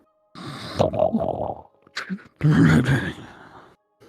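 A game master's voice imitates a loud, drawn-out snore during a tabletop role-playing session, in two rumbling breaths with a short gap, up close and alone.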